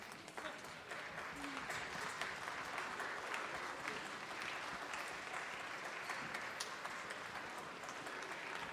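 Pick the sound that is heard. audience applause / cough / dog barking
audience applause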